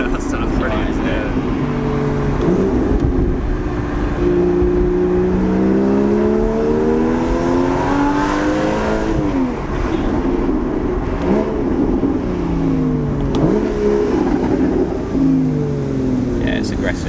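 Inside a Porsche 981 Cayman S, the engine drones and rises in repeated revving sweeps, climbing and falling in pitch as it accelerates, loud and continuous under people talking in the cabin.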